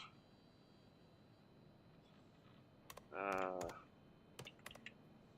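Computer keyboard typing comes through as a handful of faint, quick clicks over quiet room noise, with a brief voice-like burst in the middle.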